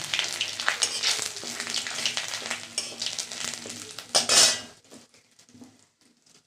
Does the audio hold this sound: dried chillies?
yes